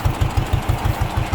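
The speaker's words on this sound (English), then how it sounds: "See, it idles really good." A John Deere 420W tractor engine with a 6-volt system idles steadily close by, its low, even putter thumping about six times a second with no other sound over it.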